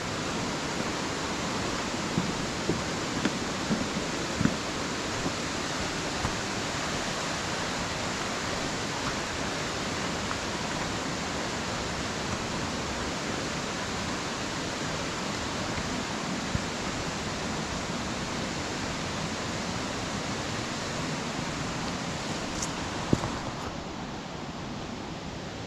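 Water rushing at the top of the Stichill waterfall makes a continuous, fairly faint broadband roar, steady and unbroken for the whole stretch with only a few small clicks.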